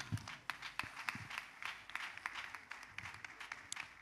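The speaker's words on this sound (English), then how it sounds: "Applaudissons pour le Seigneur." Scattered, uneven clapping from a church congregation praising the Lord, with sharp individual claps popping out over a softer bed of applause and some shuffling, no voices on top.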